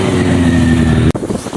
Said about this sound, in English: Got some random bike here that just pulled up. It's gonna be interesting. Oh, he's pulling a wheelie.